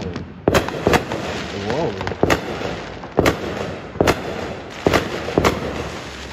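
Fireworks bang repeatedly in a loose rhythm, sharp loud cracks over a constant crackling, rumbling background, with a voice briefly audible among them.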